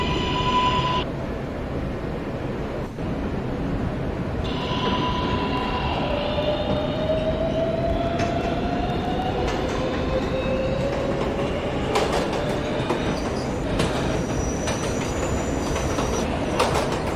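A local subway train heading toward 53rd Street, running between stations. A steady rolling rumble with rising and falling squeals and whines from the wheels, and scattered clicks of the track, heard from inside the car.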